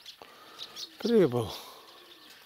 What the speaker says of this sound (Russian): Я гляжу, голубей там.